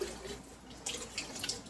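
Water draining through a strainer from a pot of rendered beeswax, heard as a soft continuous trickle with a few brighter splashes and drips, close and fairly quiet.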